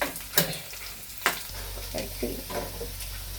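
Plantain and prawn thoran being stirred in a pan, with sharp scraping strokes of the spoon over a steady low frying crackle, close and fairly quiet.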